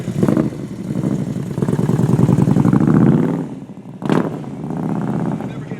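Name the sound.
motorcycle with Vance & Hines header and CFR mufflers idling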